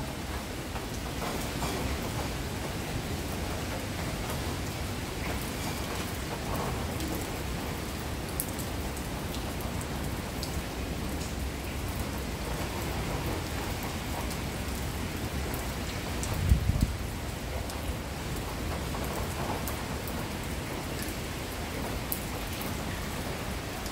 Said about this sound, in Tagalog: So, parang may bagyo ngayon.